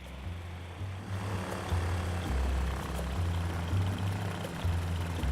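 A propeller plane engine in Ultrawings hums steadily with a low droning pulse, shifting in pitch as the throttle is pulled back, loud and continuous with no talk.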